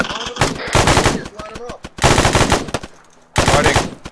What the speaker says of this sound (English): Machine gunners put rounds rapid down on that